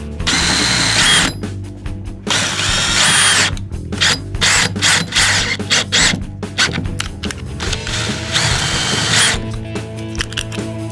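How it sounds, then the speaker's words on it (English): A power drill driving screws into a homemade shotgun shell fishing rod holder, close and loud in repeated bursts of whirring with short pauses between, ending with the screw seating. "we're gonna put 2 screws in it,"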